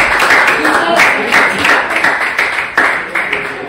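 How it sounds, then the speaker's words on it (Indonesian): A classroom of students clapping together, a loose patter of hands with uneven bursts and a few sharp individual claps standing out, fairly close and loud. "Tepuk tangan dong buat kalian semua."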